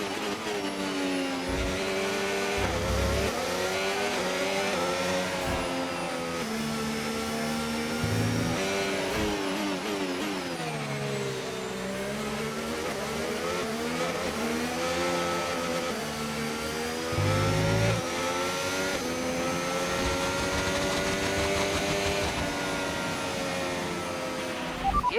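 Formula 1 cars racing in the game F1 25 at the Australian round, a steady high whine of engines rising and falling in pitch as gears change, loud and continuous throughout with no talk.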